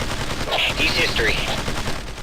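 Bursts of automatic gunfire from teammates in the Ghost Recon tactical shooter, rattling steadily for about two seconds at close range, with some voices mixed in.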